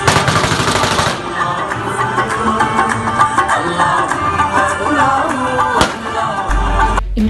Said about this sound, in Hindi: इमरान खान साबिक वज़ीर-ए-आज़म की लॉन्ग मार्च रैली पर फायरिंग